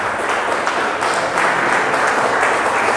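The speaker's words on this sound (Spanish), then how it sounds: "Dele un aplauso al Señor." Congregation applause at a Christian church service in Santander, a loud, dense wash of many people clapping together, sustained and steady for three seconds with no voices over it.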